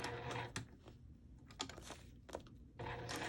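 A sewing machine stitches a fabric rosette, back-stitching and then sewing around in a circle, with a steady mechanical whir at the start and end and quieter clicking and handling in between.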